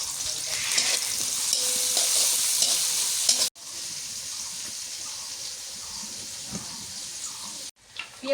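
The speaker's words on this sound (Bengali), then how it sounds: "পেঁয়াজ মরিচ ভাজা হয়ে গেছে" Onions and green chilies fry in hot oil in a pan, a loud, dense, continuous sizzle with stirring, briefly interrupted twice, the second break followed by what may be running water.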